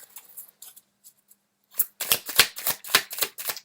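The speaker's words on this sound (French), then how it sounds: "Maintenant, vous pouvez sortir les cartes." Tarot cards being shuffled and laid out during a reading: after a few faint rustles, a run of crisp, close riffling and slapping card sounds follows in quick bursts, with no talking.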